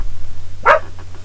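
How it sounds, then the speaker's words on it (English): A dog at a casino in Calgary gives one short, fairly close bark over a steady low hum, with no other voices around. "the dog's barking at somebody"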